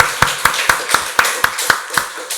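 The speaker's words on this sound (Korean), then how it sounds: "박수로 하나님께 영광 돌리겠습니다" A congregation at a Sunday church service claps in unison, about ten sharp, evenly spaced claps in a quick steady rhythm, loud and close with no talking.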